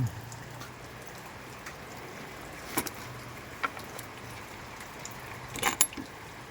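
Soft steady patter of rain falling, a continuous hiss with occasional louder drips and taps, no voices.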